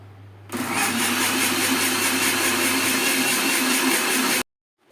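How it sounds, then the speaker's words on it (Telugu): An electric mixer grinder blending watermelon with sugar starts abruptly and whirs loudly at a steady, high-pitched drone for about four seconds, then cuts off. "మళ్ళీ దీన్ని మిక్సీ"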